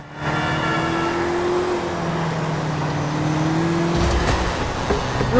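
In Grand Theft Auto IV, a car engine drones at a steady pitch for several seconds, loud and close, then shifts toward the end with a burst of noise.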